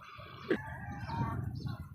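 A rooster crows at a fighting-cock farm in Thailand. The call is fairly faint and somewhat distant, with a sharp burst and then a drawn-out crow over quiet outdoor background noise.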